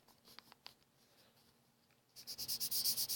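Handwriting with a pen or marker, quiet scratchy strokes and taps at first, then a louder run of rhythmic squeaky strokes near the end, close and without talk.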